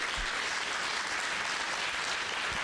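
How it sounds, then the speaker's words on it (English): An audience gives a long, even round of applause for elders at a gathering, a dense wash of many hands clapping that holds at full strength from start to finish. "and give them a round of applause."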